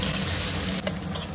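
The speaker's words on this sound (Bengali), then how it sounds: "পেঁয়াজটা এখন মা ভেজে নিচ্ছে" Onion pieces frying in hot oil in a home kitchen pan, a steady close, broadband sizzle throughout with a couple of brief stir clatters near the end.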